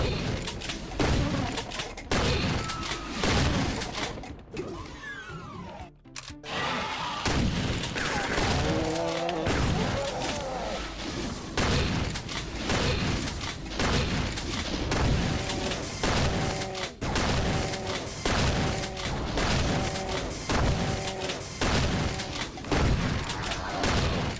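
Rapid, dense gunfire and booming blasts from the Doom video game sound nearly continuously, loud and punchy, with repeating thuds throughout.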